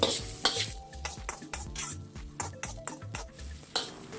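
Ginger and garlic sizzling in a wok as a utensil stirs them, with rhythmic scraping and clinking strokes repeating over a steady frying hiss, close and fairly loud.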